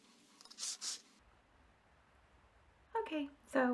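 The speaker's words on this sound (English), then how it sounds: "my marker is definitely dragging along the ruler" A marker drags along a ruler while lettering a budget planner, two short, faint squeaky strokes, then quiet, followed by a person speaking.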